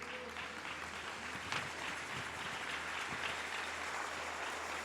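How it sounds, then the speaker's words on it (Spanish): A church congregation applauds as an offering of praise to God, a soft, steady patter of many hands heard from a distance over a low hum, with no speech. "Alguien déle una ofrenda de palmas a su Rey."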